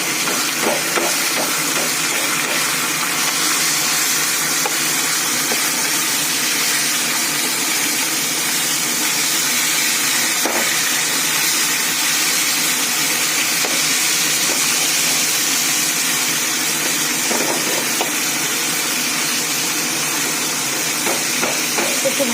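Fish head frying in hot oil in a home kitchen, giving a loud, steady sizzle sprinkled with sharp crackles and pops throughout.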